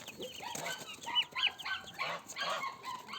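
Goslings and chicks chirp in short, high peeping calls, several small birds close by cheeping in quick irregular bursts at low volume.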